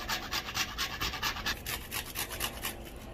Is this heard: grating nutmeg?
yes